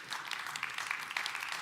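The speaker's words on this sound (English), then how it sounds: "So big applause to Printify" Steady applause from a tech-conference audience at TechChill Riga, a continuous wash of clapping with no voices over it for its short length.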